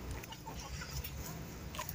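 Chickens and a rooster on a rural Turkish homestead give soft clucks over a steady outdoor background, fairly close but not loud.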